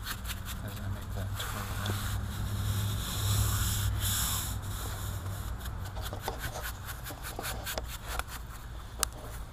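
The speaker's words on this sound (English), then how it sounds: "Wet trowel, gently come around." Wet trowel smoothing fresh concrete curbing outdoors, a continuous soft rubbing scrape with a steady low rumble behind it, plus faint taps toward the end.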